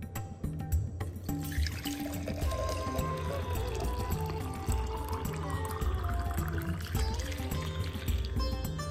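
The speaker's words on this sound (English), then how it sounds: "Then pour your water into your jar." Liquid pours steadily into a container, a continuous splashing stream that fills in gradually, with faint knocks and background hum beneath it.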